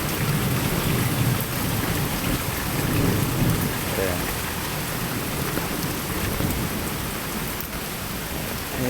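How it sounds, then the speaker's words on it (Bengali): Steady heavy rain pouring onto a village pond, a dense constant hiss of drops on water with a low thunder rumble underneath, no voices. "দেখেন কীভাবে বৃষ্টি হচ্ছে"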